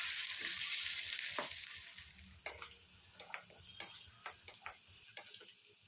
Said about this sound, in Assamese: পিঁয়াজখিনি এতিয়া অলপ ৰঙচুৱা হোৱালৈকে ভাজি ল'ম।